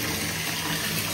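Water runs steadily from a tap into a container in a home bathroom, a constant hissing splash at moderate level, with no voices.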